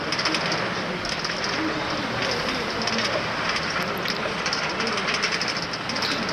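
A train placed in a Minecraft world gives a steady, dense rumbling clatter that runs unbroken throughout, with faint chirping flecks over the top.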